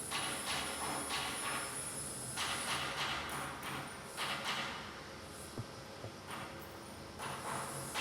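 Rollers in the Five Nights at Freddy's: Sister Location horror game rumble and clank in irregular metallic bursts over a constant noisy background, sounding like construction machinery; no voices.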